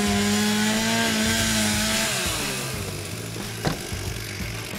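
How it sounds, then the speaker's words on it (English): A chainsaw cuts through roof rafters during vertical ventilation of panelized roof construction, its engine droning loud and steady, then dropping in pitch and turning rougher as the chain bites into the wood. "The sawyers will now cut through two rafters and then stop."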